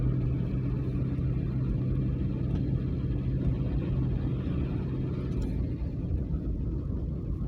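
Car driving along a street in Yakutsk, a steady low engine and road rumble from inside the vehicle, continuous and fairly loud throughout with no talking.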